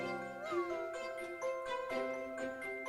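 A cartoon cat meows a few times in a sweet, tonal, melodic voice over soft background music with light jingling, fairly quiet and with no talking.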